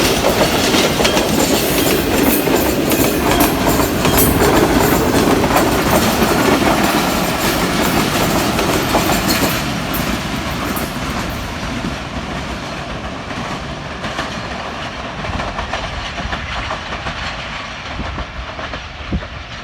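Pakistani train 101 railcar, led by locomotive G24, rushes past near Jhelum with loud rumbling and rapid clickety-clack of wheels over rail joints, fading slowly as the cars roll by.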